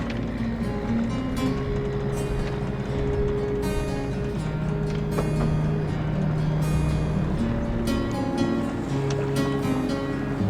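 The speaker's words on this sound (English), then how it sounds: "it's got the engine warming up and time to go" A sailboat's engine warms up in an old fishing harbor in Maine, a steady low rumbling drone with water and faint background noise around it.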